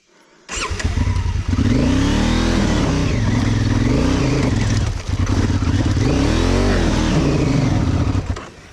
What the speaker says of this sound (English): as you can hear, the traction control is just cutting out. That's a full throttle all the way